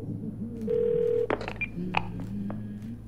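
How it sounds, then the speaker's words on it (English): In a video game, a phone dials 911 as a sequence of short dialing tones and beeps, clear and close, with a faint voice briefly underneath. "How do I open the phone? Alright. Call 911."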